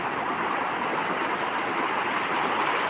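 Big ocean waves wash onto a clean beach on Indonesia's southern coast in a continuous broadband roar of surf and rushing water, steady and fairly close, with no voices.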